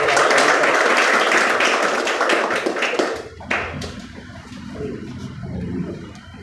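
An audience at a coaching institute event applauds its guests, a dense, steady patter of clapping that fades after a few seconds into quieter room noise and murmuring.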